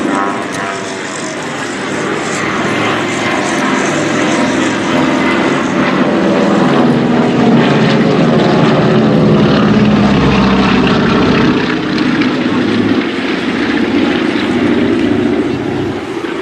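A Douglas DC-3 propeller airliner flies past at the Duxford Flying Legends air show, its piston engines giving a loud, sustained drone that swells and holds steady throughout.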